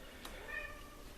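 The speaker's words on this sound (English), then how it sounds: "If you can hear something in the background, my cat is going apeshit for some reason." A cat meows in the background, a faint short cry heard once, low in level under a quiet room tone.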